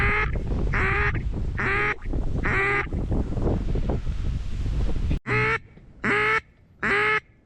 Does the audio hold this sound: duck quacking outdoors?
yes